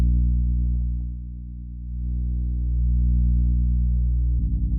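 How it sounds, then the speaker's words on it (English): A steady, low 60 Hz mains-style hum from a lo-fi tape effect plug-in drones continuously and fairly loud, swelling slightly in the middle and ending with a brief pulsing flutter. "You got a 60 hertz hum."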